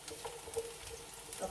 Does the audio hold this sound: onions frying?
yes